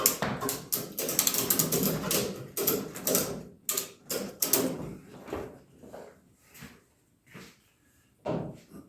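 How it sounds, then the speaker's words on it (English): Ratchet straps being cinched tight on a 1972 Suzuki TM250J motorcycle, with bursts of rapid clicking and clacking in quick runs, then sparser clicks and pauses near the end. "Let me tighten up my straps a bit for this job."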